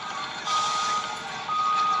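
A truck reversing at road works gives a steady, repeated electronic beeping over continuous traffic and engine rumble, moderately loud at middle distance.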